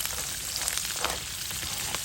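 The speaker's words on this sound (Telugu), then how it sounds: "ఇది ఒకసారి ఇట్లా కలిపేసి తాలింపు వేయడమే." Tempering of cashews fried in ghee sizzling in a pan for ragi pongal, a steady close crackle and hiss running without pause and with no voices.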